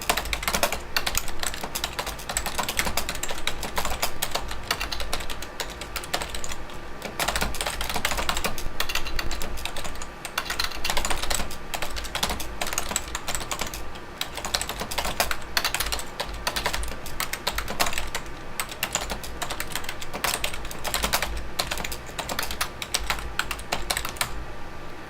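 Continuous fast typing on a Logitech MK550 keyboard, number pad included, produces a dense, steady clatter of close, crisp key presses for the whole stretch, with no voices.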